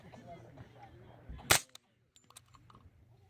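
A single sharp report from a D3-45SD integrally suppressed carbine on a firing range, one brief crack standing out from quiet background murmur, followed by faint clicks.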